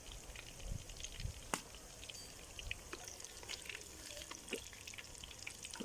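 Fish pieces fry in hot oil as crispy fish pakora: a steady, faint sizzle with scattered crackles and pops, heard alone without talk.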